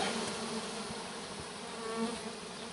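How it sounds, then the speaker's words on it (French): A steady, low insect buzz hums throughout, fairly faint and continuous, like bees droning nearby with no voices. "j'entends un bruit suspect autour de moi, comme un gros bourdonnement"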